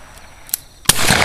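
A sharp outdoor gunshot fired at a flying dove, one loud crack near the end after a faint earlier pop, with a brief hiss trailing after.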